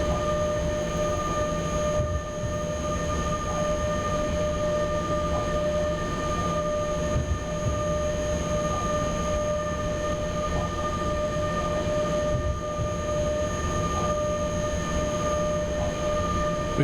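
A heavy train runs under dynamic braking in the SimRail rail simulator, giving a continuous loud rumble and rolling noise with steady whining tonal hums from the traction equipment, unbroken for the whole stretch.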